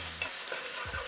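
Ground coriander, cumin and cardamom are stirred into a cooking pan, giving a brief, fairly quiet sizzle with light spoon movement.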